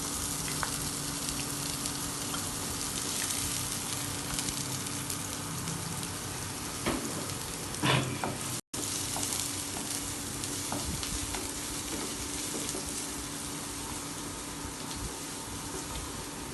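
Brunoise-cut onions fry in a pan with cumin seeds in hot oil, a steady close sizzle with occasional stirring scrapes and clinks throughout, no talking.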